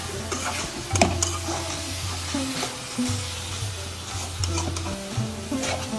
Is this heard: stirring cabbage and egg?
yes